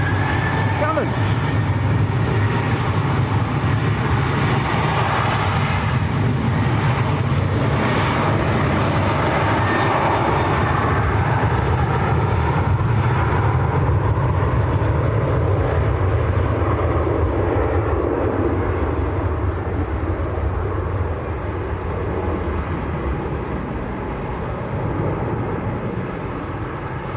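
Ryanair airliner bound for Shannon at Manchester Airport, a loud continuous engine roar sustained across the whole span, with someone talking over it.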